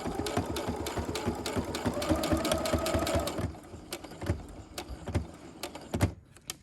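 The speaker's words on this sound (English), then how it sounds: "we just want to continue that stitch straight on down" Sewing machine stitching the lining of a fabric face mask, a fast steady needle clatter for about three seconds, then slower, separate stitch taps close up.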